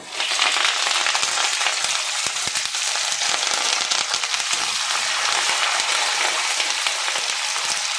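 Onion, green chili and curry leaves frying in hot oil with a little garlic, a dense, steady, close sizzle that holds loud and even throughout with no talk.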